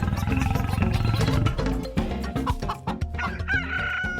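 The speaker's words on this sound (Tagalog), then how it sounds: "Kining saba, tawgon nga manok." A rooster crows loudly while chickens cluck close by, layered over a busy background of other animal sounds that rise and fall.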